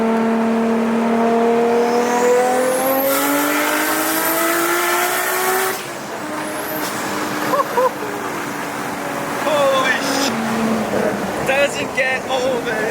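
An 850 hp Nissan Skyline R33 GT-R V-Spec with a 2.8-litre RB28 stroker engine revs hard, its pitch climbing and falling, then settles into a rumbling idle with sharp crackles and pops.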